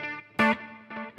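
Electric guitar notes through Overloud TH-U amp software ring out with delay and reverb in mono, a strummed chord followed by repeating echoes that fade, all sounding narrow and centered.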